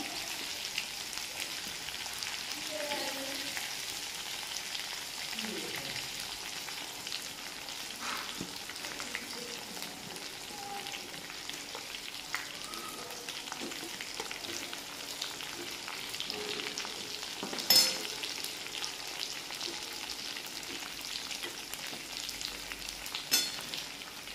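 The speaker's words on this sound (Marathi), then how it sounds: "आणि आता थोडी तळली की आता हे सगळे कारले सोडून घेऊ त्याच्यामध्ये." Bitter gourd (karela) frying in hot oil in a pan, a steady soft sizzle and crackle running throughout at low level, with a couple of sharper clinks near the end.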